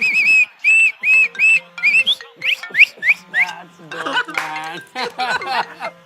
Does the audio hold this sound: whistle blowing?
yes